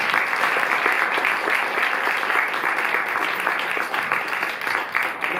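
Dense, sustained applause from a cinema audience at a Paris screening and discussion, many hands clapping loudly and evenly throughout.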